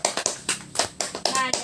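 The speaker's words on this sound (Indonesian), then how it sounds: "Tepuk tangan." Students in a classroom clap their hands after a group presentation, a series of sharp, uneven claps in quick bursts, close and fairly loud, with a teacher's voice briefly audible among them.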